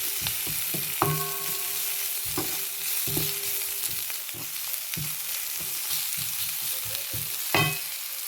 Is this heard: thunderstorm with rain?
no